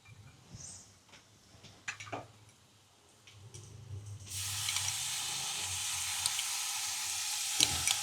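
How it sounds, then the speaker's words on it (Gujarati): Yogurt hits a pan of sizzling fresh green turmeric curry, a quiet clatter of spoon strokes first, then a sudden loud, steady hiss and crackle that holds to the end. "હવે આપણે દહીં નાખી દઈ"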